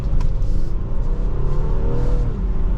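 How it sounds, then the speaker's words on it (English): A 2025 Honda Pilot AWD Black Edition engine revving up under acceleration on a test drive, a loud, steady rising rumble heard from inside the cabin. "The engine will rev out a little bit."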